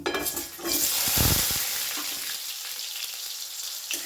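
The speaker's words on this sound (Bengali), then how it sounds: "একটু ভালো করে ভেজে নেব আলুগুলোকে" Diced potatoes fry in hot oil with whole cumin seeds and chilli for a cabbage dish, giving a bright, steady sizzle with a few soft stirring knocks, close and continuous, with no talking.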